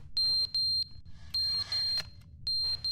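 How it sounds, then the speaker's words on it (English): Repeated electronic alarm from The Stanley Parable: Ultra Deluxe video game, with short high-pitched beeping bursts sounding in groups, loud and close, separated by brief pauses over a low background hum. "Why is the alarm going off?"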